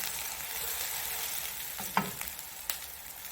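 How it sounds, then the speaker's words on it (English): Potato bites brown in a pan with a tablespoon of oil, giving a soft, steady sizzle with a few light clinks of a utensil near the end. "I'm right now just browning the top."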